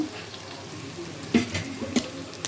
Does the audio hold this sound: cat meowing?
no